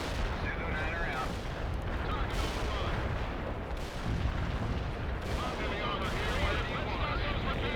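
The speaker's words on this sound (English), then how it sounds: "Artillery barrage hit for full effect." Artillery barrage pounding a battlefield in World in Conflict during the final mission: a dense, continuous roar of booms and blasts, loud and close throughout with little pause.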